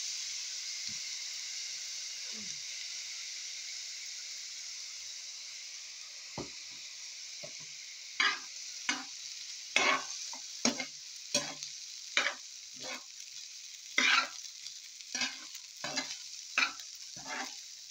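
Fried rice with salt and soy sauce sizzles steadily in a pan, with a spatula scraping and stirring in a regular rhythm of sharp clacks over the constant hiss.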